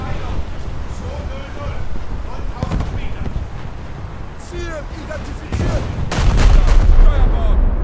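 Battleship main guns firing at cruisers in a naval combat game, several heavy booms at irregular intervals amid wind and water noise, with a louder rumbling salvo near the end and talk over parts of it.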